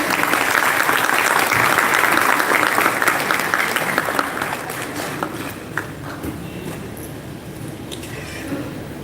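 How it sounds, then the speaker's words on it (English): Loud, sustained applause from the audience at a film festival opening night greets the advisory board, dense clapping that gradually thins and fades over several seconds. "Ladies and gentlemen, the advisory board, a huge round of applause."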